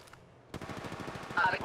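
Rapid automatic gunfire in Apex Legends Mobile rattles in a quick burst after a brief quiet moment, with a brighter electronic sound effect layered near the end.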